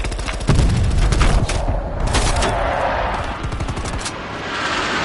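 Gunfire in an Xbox video game: a loud, close, rapid burst of shots and thuds, then a fainter, rumbling stretch of battle noise, with no talking.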